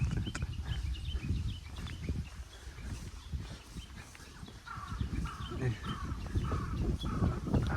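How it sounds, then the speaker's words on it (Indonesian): Crows caw in bursts in the wooded grounds of an abandoned village in Japan, some calls fairly clear and others farther off, while people talk over the steady outdoor background. "Oh, elang dan gagak ya."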